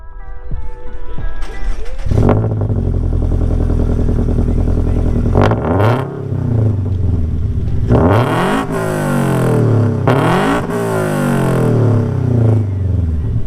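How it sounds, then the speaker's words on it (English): Toyota GR86 with aftermarket intake, headers and axle-back exhaust, heard up close on a cold start: the engine catches and settles into a loud, high idle, then rises through several sharp revs that swell and fall back, with no talking. "mixing perfectly with some performance touches, such as intake, headers and axle back exhaust that we will hear shortly"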